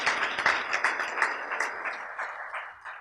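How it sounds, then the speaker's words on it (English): Gala dinner guests applaud during the Prishtina mayor's speech, with a brief burst of many hands clapping, fairly close and steady, then thinning out toward the end. "Great applause"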